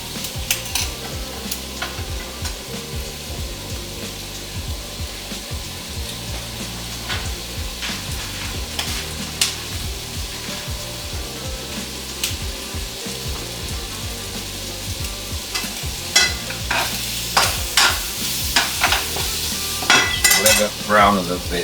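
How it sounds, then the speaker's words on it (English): A Filipino dish being stir-fried in a semi-dry pan after the sauce has reduced: soft, continuous sizzling with repeated scraping and clinking of a utensil against the pan, the stirring growing busier toward the end. "this is when I stir fry a little bit"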